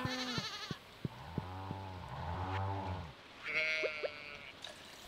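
A farm goat in the video game Stardew Valley gives a string of bleats, several wavering cries in a row, close and moderately loud, with a few soft game clicks between them.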